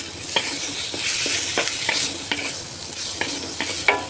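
Choi sum stir-fried in a hot pan, a loud steady sizzle punctuated by regular scraping strokes of a spatula, close up with no talking.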